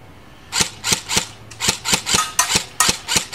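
A spring-powered toy gun fires repeatedly, roughly a dozen sharp, loud snaps in an uneven rhythm, some close together, with hits on a target and no talking over them.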